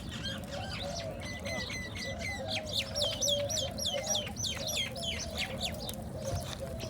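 Many birds chirp in the trees around an outdoor charcoal grilling spot, overlapping repeated calls and trills at moderate distance over a low steady background hum.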